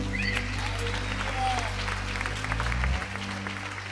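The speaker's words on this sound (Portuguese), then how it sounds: "Aplauda o Senhor." A church congregation applauds during a service, steady clapping filling the room over a low, constant hum that drops slightly toward the end.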